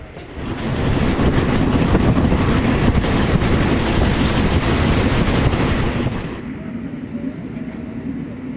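A train heading to Ernakulam railway station rumbles loudly and steadily for about six seconds, then drops to a quieter background hum.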